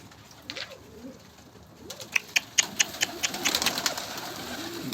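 Pigeons coo softly nearby in low, rolling repeated calls, followed by a quick series of sharp clicks and wing claps.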